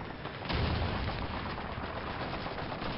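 Gunfire in the World War II shooter Call of Duty 2, a rapid rattle of shots with a heavier burst early on, continuing steadily at moderate distance without speech.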